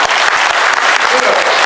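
An audience claps in a dense, loud burst of applause, close and sustained for the whole short stretch.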